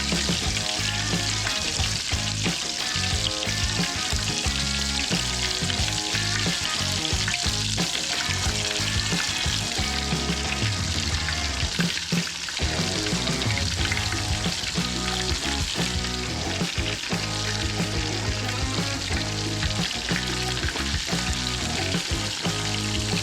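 White bass and bluegill fillets frying in hot oil, a dense, continuous loud sizzle with steady bubbling throughout and no voices.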